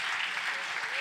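An audience applauds a man named David as he is called on stage at a raffle, a dense steady wash of clapping filling the whole second.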